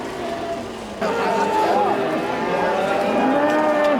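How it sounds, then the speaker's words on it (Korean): Cattle at a cattle market in Toegye-dong, Chuncheon, lowing loudly in a sustained overlapping chorus over a busy ambient background, with no talk. "우시장이 열리는 날이면 퇴계동 일대는 새벽부터 우렁찬 소 울음소리로 가득했는데요"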